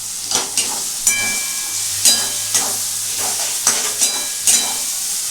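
A spoon stirs potol dorma curry frying in a pan, with repeated scraping strokes over a steady sizzle and hiss, loud and close.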